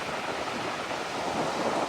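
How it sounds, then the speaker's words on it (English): Ocean surf washes steadily onto the shore around a dog standing in the shallows, a continuous close rush of breaking waves mixed with gusty wind noise on the microphone, with no voices. "letting the waves hit her."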